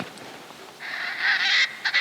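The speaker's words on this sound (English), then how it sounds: "think there's two turkeys in there." A distant wild turkey's rapid, rattling gobble rises out of quiet outdoor background on a lava-rock ridge in Hawaii, brief and moderately loud.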